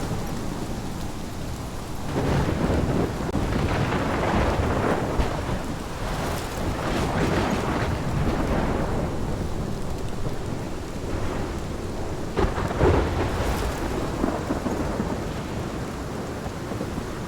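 Steady heavy rain and rumbling thunder from a storm in the video game Life Is Strange, with louder thunder swells around the middle and again near the end, no voices.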